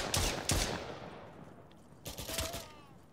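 High-explosive rounds fired in a tactical first-person shooter on PC: a few sharp, loud shots at the start, then a lull and another cluster of rapid bursts, with no voices.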